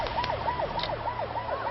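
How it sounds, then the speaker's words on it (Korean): At midnight on a crowded Daecheon beach during the mud festival, an emergency siren wails in fast repeated up-and-down sweeps over steady crowd and surf noise. "밤 12시 10분 해변에 울려 퍼지는 사이렌 소리"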